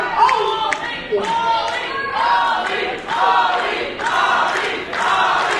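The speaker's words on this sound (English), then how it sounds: "Crowd now chanting for Ali, Kyle Boone's opponent" Wrestling crowd at a Barrie Wrestling show chanting in a steady rhythmic cadence for Ali, voices rising and falling in repeated pulses, loud and continuous throughout.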